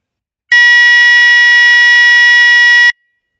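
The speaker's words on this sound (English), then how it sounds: "At the timer reaches to 0, the buzzer will on." A simulated microwave oven timer buzzer from a PIC16F877A circuit in PICSimLab sounds once as a loud, steady electronic tone of about two and a half seconds, with a sharp start and a sharp stop.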